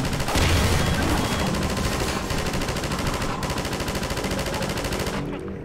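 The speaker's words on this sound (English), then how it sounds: "That's why we got this machine gun." Sustained rapid machine gun fire in Half-Life 2, a dense continuous automatic burst running loud and close for several seconds before cutting off.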